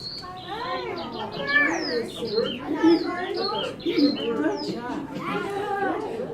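Birds chirp and warble in spring in overlapping calls, including dove-like cooing, with a lively chorus continuing throughout at moderate loudness.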